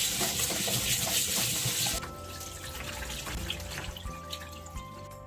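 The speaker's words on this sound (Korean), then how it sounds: "그냥 각자 씻는 것도 귀찮아. 그러면 그냥 한꺼번에 씻으셔도 돼요." Glutinous rice and red beans washed together under a running tap in a kitchen: a steady gush of water and sloshing grains, with the flow shifting partway through into quieter splashing and dripping.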